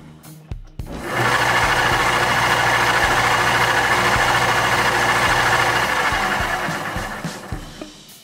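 Gear-driven saw running noisily after conversion from belt drive, a loud continuous mechanical whir with rattling gear noise that starts abruptly and holds steady for several seconds before winding down.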